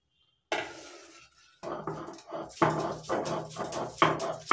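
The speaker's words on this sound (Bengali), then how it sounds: "এবার ধনেপাতা বেটে নিচ্ছি।" Coriander leaves are ground on a grinding stone, heard as repeated close scraping and gritty rubbing strokes in an uneven rhythm after a brief silence, with light clinks in between.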